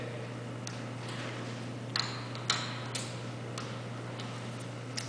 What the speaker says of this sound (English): I'm going to listen for it to click.